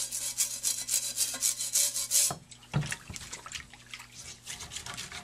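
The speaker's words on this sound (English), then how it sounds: "it truly is taking it off just as simple with just a simple scrubbing action there" A brush scrubs baked-on pitch off a circular saw blade with laundry detergent, giving a close, rhythmic wet rubbing that turns to softer, scattered scrapes and drips partway through.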